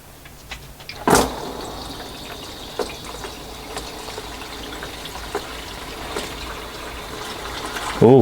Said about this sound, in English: we're gonna let the transmission fluid drain